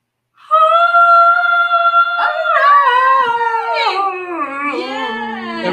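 People imitate a howling dog or wolf, sustained rising and falling tonal howls with one voice overlapping another, loud and close, no other sound around them.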